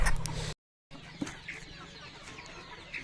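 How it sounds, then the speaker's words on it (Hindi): Four desi chickens, two roosters and two hens, cluck and squawk close by while being caught and held for weighing, with a brief silent break before the restless fowl noise resumes. "हम 4 मुर्गियों को पकड़ेंगे और 4 मुर्गियों को वज़न करके आप लोगों को दिखाएंगे।"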